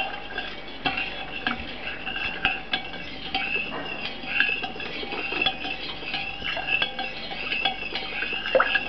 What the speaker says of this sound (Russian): Размешиваем хорошо